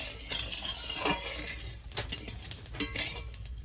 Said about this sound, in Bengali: ভালো করে নেড়ে চেড়ে নেব ফোড়নটা